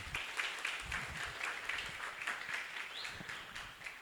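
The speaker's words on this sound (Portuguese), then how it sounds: "Uma salva de palmas novamente para..." Moderate applause from a conference audience follows a paper presentation, a fairly quiet, steady patter of clapping in a room with low rumbling underneath.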